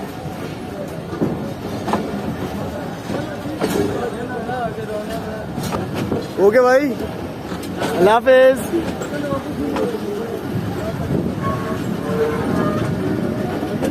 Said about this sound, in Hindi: तो ट्रेन पूरे 2 बजे निकल चुकी है हवेलिया रेलवे स्टेशन से।